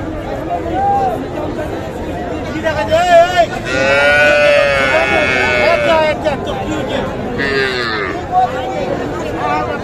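A young cross-breed bull calf lows at a busy village cattle market. Its drawn-out calls rise over a constant hubbub of crowd chatter and nearby people talking.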